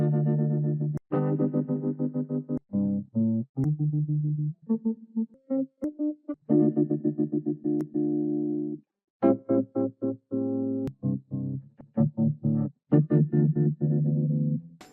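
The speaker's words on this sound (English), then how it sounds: "You can control the volume of the guitar with your voice" Guitar run through a Boss RC-505 MKII effect that gates its volume to a voice, producing choppy rhythmic bursts of chords that start and stop in quick pulses with short silent gaps between them.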